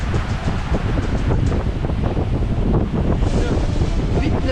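Strong 30-knot wind at sea buffets a sailing boat crossing from Syracuse toward Crotone, a loud, continuous roaring rush with gusty rumbling from start to finish.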